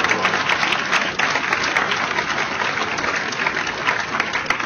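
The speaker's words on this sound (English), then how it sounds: "Please seriously give Mark Siegel a big round of applause" A big round of audience applause at a ribbon cutting for an LGBT seniors center, steady and dense from a large crowd, filling the space evenly from start to finish.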